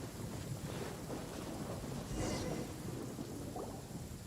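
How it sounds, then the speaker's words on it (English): A thunderstorm in the video game Genshin Impact roars continuously with dense rain and wind, thunder swelling at mid-passage, loud and enveloping with no voices. "The thunder drowns out all other sounds, hampering my perception of the surrounding environment."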